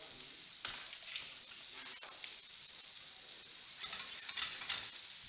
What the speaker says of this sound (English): So obviously, because it's pan fried, we want it to look like it's pan fried.